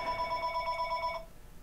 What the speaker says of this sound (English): Second time there was a phone interruption.